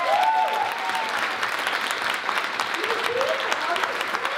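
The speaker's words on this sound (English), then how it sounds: "I'd like to give her a round of applause" Warm, steady round of audience applause at an opening ceremony, many hands clapping together for several seconds, with a few voices audible faintly in the crowd.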